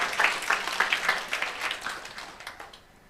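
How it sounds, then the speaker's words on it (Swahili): Church congregation applauding at a Sunday main service, a steady patter of clapping that is moderately loud and then thins out and fades toward the end. "Simuketi basi chini, muwapigieni makofi."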